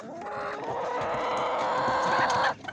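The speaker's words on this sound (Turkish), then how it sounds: "Lokman Yumurtacı tavuklarımız da burada arkadaşlar" Seven-month-old Lokman egg-laying hens at a Gördes poultry market, clucking and squawking close by in a dense, continuous chorus that cuts off abruptly near the end.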